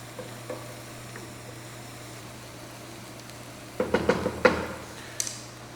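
Butter and onion sizzle in a pan, a low, steady frying hiss running throughout. Several quick utensil clinks and scrapes clatter against the pan near the end.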